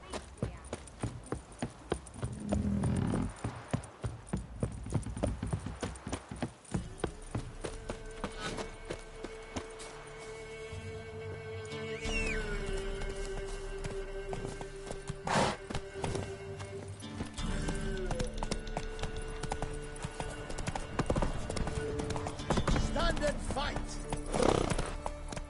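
Horse hooves clip-clop in The Witcher 3, steady trotting with an occasional whinny, heard under game dialogue and ambient music over about twenty-five seconds.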